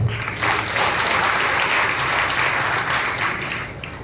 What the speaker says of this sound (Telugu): ప్రభువుకు బిగ్గరగా చప్పట్ల ద్వారా స్తుతి చెల్లిస్తాము